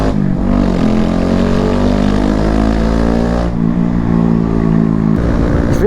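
Motorcycle running on a newly installed exhaust system with the baffle still fitted, a loud, steady engine note that shifts pitch as it is ridden, changing gear around the midpoint and again near the end, with no talking.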